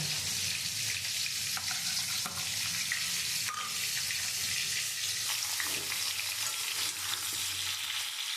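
Potatoes frying in oil for Kashmiri aloo dum, with whole spices such as bay leaf, cumin and dried chilli. A steady, close sizzle runs throughout, with occasional stirring scrapes and clinks.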